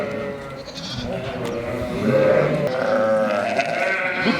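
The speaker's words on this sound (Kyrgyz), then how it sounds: "Жалаң эгиз туулган койлор булар." Sheep of a crossbred Afghan and Kyrgyz type bleat with their twin lambs, several overlapping calls rising and falling close by, with some low background voices.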